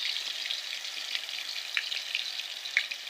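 Onion and garlic paste frying in hot oil, a steady close crackling sizzle with a few sharper pops and spits standing out, no voices over it.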